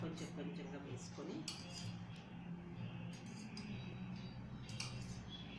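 Milk is mixed little by little into a mixture in a bowl while shaping a Vinayaka (Ganesha) figure, giving steady soft clinks and scrapes of a utensil over a low background hum.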